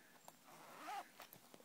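Zipper on the pocket of a pliable leather planner, a short soft zip drawn once at close range, faint and alone with small handling clicks around it.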